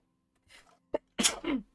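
One person sneezes up close, a short breathy intake followed by a sharp burst and a trailing voiced release, fairly soft.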